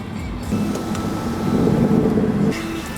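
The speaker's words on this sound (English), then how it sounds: "We are in first gear. Yeah, you guys, it's starting to spin out a little bit." Mercedes C63 AMG with a P31 Development Package accelerating in first gear as its tires begin to spin, a steady loud engine drone and roar heard from inside the car, swelling midway and then easing off.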